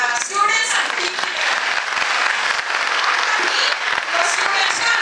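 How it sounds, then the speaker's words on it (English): Applause for students and teachers at an international conference session, a dense, steady clapping from a seated audience that runs throughout, fairly close and even in loudness. "I think we have to give a big clap for students and teachers"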